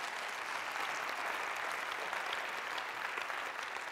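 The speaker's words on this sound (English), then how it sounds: "Give her a massive round of applause" A conference audience at an annual keynote session breaks into sustained applause, a thick, even roar of many hands clapping continuously at a fairly soft, distant level.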